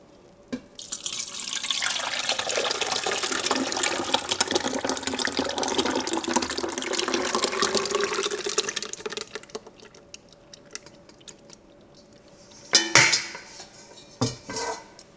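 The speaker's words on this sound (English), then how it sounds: "And then we're going to pour it into the canister." Vanilla custard mixed with milk pours into an ice cream maker canister with the paddle already inside, a steady liquid splashing rush that fades out, followed by a couple of sharp clinks of the container near the end.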